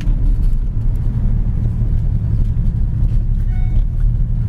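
Six-cylinder Ford Mustang fitted with headers and dual exhaust, a deep steady engine drone rumbling loudly and continuously at close range while cruising, with faint light clicks and a brief whine near the end.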